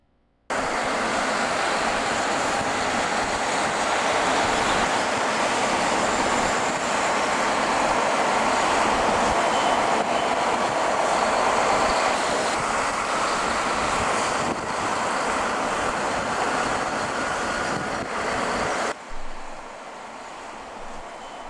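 A car drives through snowy residential streets in Edmonton. A loud, steady roar of road and wind noise lasts for about nineteen seconds, then drops to a quieter hum.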